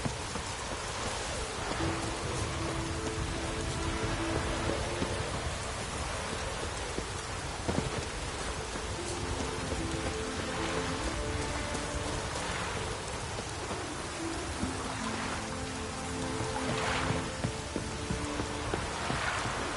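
Heavy rain pours in the video game The Witcher 3, a dense steady hiss lasting throughout with faint distant thunder rumbles and soft background music.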